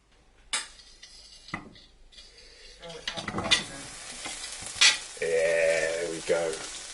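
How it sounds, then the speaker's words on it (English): Eggs and vegetables sizzle steadily in a hot frying pan while a utensil scrapes and taps against it, with a few clatters at the start. "Got a pan on the go, so I just need to hear that sizzle."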